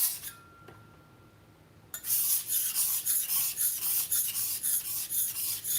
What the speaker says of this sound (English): This blade is very hard to sharpen properly because it is so cheap.